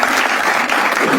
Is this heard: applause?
yes